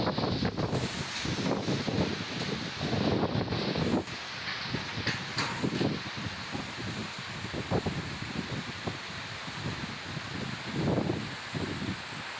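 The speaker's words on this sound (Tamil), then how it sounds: "சென்னை மற்றும் புறநகர் பகுதிகளில் நேற்றிரவு திடீரென பலத்த காற்றுடன் கனமழை பெய்தது." Strong night wind with heavy rain in Chennai and its suburbs gusts and rushes in uneven surges, with rustling bursts over a constant hiss.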